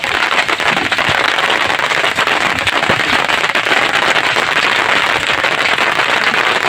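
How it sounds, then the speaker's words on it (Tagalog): Heavy rain pours down at night on a fishing boat out squid fishing, a loud, dense, steady hiss and patter of drops striking the surface all around, with no voices. "Lakas ng ulan mga idol."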